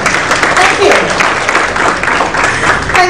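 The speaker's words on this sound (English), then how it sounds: "So let's give a huge round of applause to him." Audience applause at a SolidWorks live stream event, dense steady clapping that fills the whole stretch at close range, with a voice briefly audible under it.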